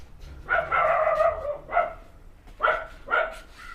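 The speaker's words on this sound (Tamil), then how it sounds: "நாயை பாருங்க, இது வந்து அவை வளர்த்தனே தான் பாருங்க. அதை குலைச்சி கொண்டு நிற்குதா" A guard dog kept at a house in Jaffna, Sri Lanka barks in a few loud, close bursts with short pauses between them.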